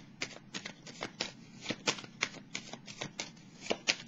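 Tarot cards are shuffled close by in a quick, rhythmic run of crisp riffling flutters, steady and fairly quiet, with no talking.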